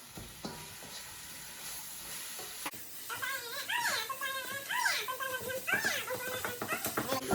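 Pieces of pheasant browning in a pan give a soft, steady sizzle, while a nearby cat meows in a drawn-out, wavering way over it for the second half.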